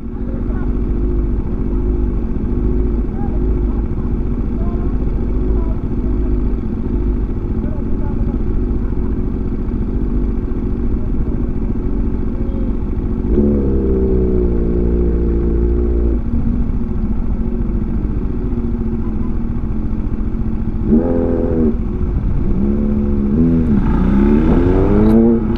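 Big motorcycles rumble past on a road from Santa Fe to Malico, a continuous loud engine drone with rising revs and a few sharper throttle bursts near the end, while people talk nearby.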